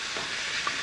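Chicken pieces sizzling in a hot pan as they are turned over, a soft, steady hiss with a faint clink near the end.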